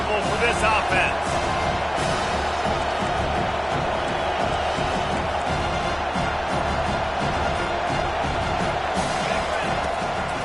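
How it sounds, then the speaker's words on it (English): Stadium crowd noise in the NCAA 24 college football game, a steady dense roar of cheering that holds loud throughout under continuous commentary. "This crowd trying to make life miserable for this offense."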